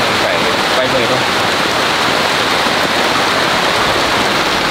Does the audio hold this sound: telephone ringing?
no